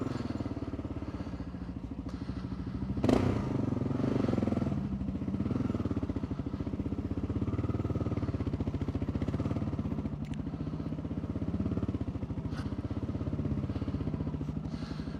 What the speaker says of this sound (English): The old KLR, just chugging along.